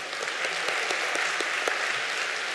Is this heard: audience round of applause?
yes